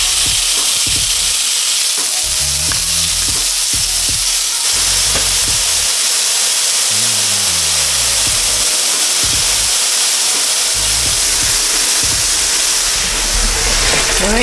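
Chicken sizzles loudly in a hot pan of oil, a dense continuous frying hiss that stays strong throughout with occasional crackles and pops, while a voice talks briefly over it.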